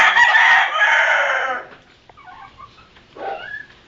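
Chickens and roosters, said to come from America and kept for cockfighting, with a loud close rooster crow followed by scattered softer clucks and calls.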